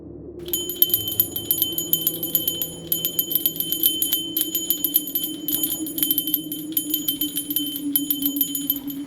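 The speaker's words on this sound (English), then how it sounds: "give us a hint by ringing a bell" A small bell rings repeatedly in bright, shimmering bursts during the Disney Haunted Mansion Madame Leota seance, layered over a low droning ambient hum and sounding alone without any talk.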